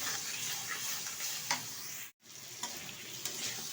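Cauliflower and potato sauté over high heat with a ground spice paste and salt, a steady close sizzle broken by occasional scrapes and stirs of the spoon and one brief dropout.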